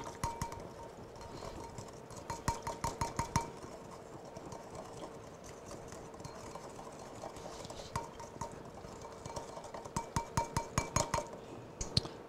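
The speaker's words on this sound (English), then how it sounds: "You whisk that up." A whisk clinks quickly against a bowl while salad dressing with pepper is beaten in a home kitchen, coming in bursts of sharp metallic ticks separated by short pauses, close and fairly quiet, with no talking.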